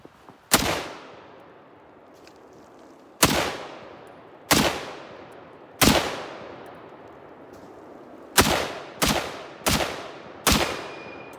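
Eight loud, sharp .30-06 rifle shots from an M1 Garand with an end block clip, spaced irregularly with ringing decay, the last few in quicker succession, followed by the faint metallic ping of the ejected clip.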